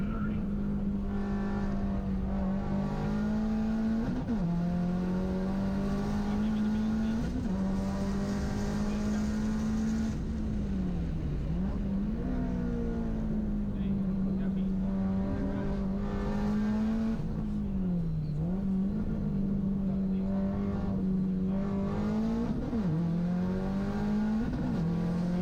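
A race car laps Road Atlanta during a Global Time Attack event, its engine droning steadily with pitch dips and rises through corners, heard at a distance beneath continuous commentary.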